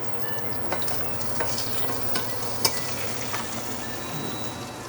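Hot butter sizzling in a pan, heard as a steady close frying hiss with a few small pops and crackles, and no voices.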